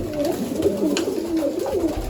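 Pigeons coo repeatedly inside a loft, soft rolling calls close by that overlap in a steady murmur, with no voices.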